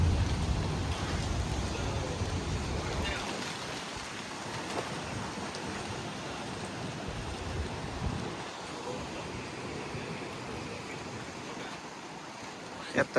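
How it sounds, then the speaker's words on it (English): Heavy rain bands lash down in a severe thunderstorm with winds of 60 mph or more, a loud continuous roaring wash of rain and wind close by with no letup. "Yep, the heavier rain bands down there."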